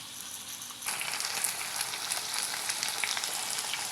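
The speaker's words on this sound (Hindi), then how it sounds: "पाँच मिनट के लिए अच्छे से इसको हम भूनेंगे।" Sliced potatoes frying in oil for an aloo gravy, a quiet hum that jumps into a steady crackling sizzle after about a second and continues evenly, close by with no talk.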